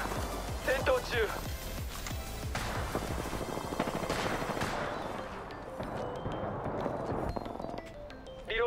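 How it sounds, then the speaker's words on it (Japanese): Rapid gunfire bursts from an Apex Legends firefight crackle through a busy mix of game effects, dense and continuous with sharp clustered shots early on. "撃たれてる。"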